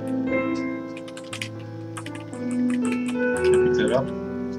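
Computer keyboard keys tapped to steer a roguelike game, irregular clicking bursts close to the mic over steady game music, with a voice talking at times.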